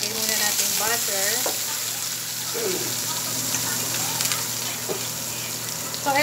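Butter melting in a pan for chicken white spaghetti gives a steady, close frying sizzle throughout, with someone talking over it.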